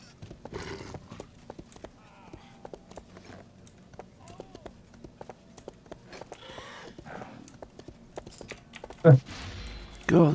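Horse hooves clip-clop steadily in the online game RIFT, a quick rhythmic trot mixed with close computer keyboard tapping, a brief whinny-like burst near the end, and a voice talking faintly in places.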